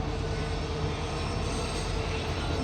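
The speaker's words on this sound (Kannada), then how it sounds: "ಮತ್ತೊಂದು ಟ್ರೈನ್ ಬಂತ" A steady, rumbling drone of a passing goods train fills the whole stretch, constant and broadband with no voices.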